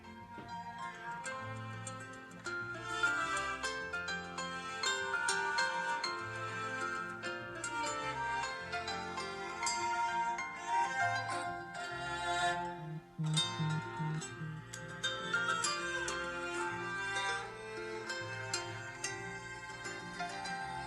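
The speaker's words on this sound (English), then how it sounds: "that was music brought to you by my LG7 phone and its alarm clock" An LG7 phone's alarm clock ringtone plays a melodic electronic tune with layered notes and steady rhythm, moderately quiet and continuous for about twenty seconds with no talking.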